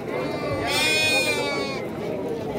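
A single sheep gives one drawn-out, wavering bleat at a sheep sale ahead of Qurban, clear over a noisy background.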